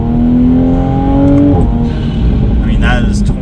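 2020 Toyota Supra A90 under full throttle in second gear from about 20 mph, its engine rising in pitch over a second and a half before a gear change, loud and close, with someone talking over it.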